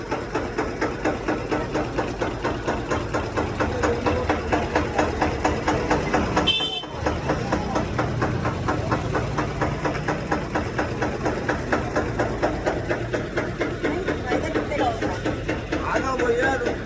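A tractor engine running steadily nearby, with a rhythmic chugging pulse throughout and a brief dip in the middle.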